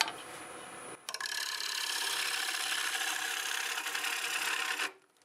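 Gouge cutting hard into a wooden bowl wall spinning on a lathe: a steady, loud, rasping scrape that starts abruptly after a second of quieter whirring and holds for about four seconds before stopping.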